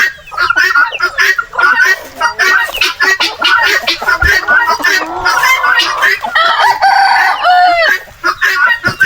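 Several roosters crow loudly over a dense, constant clucking of many heritage chickens, close by and crowded together, packed two per box for travel.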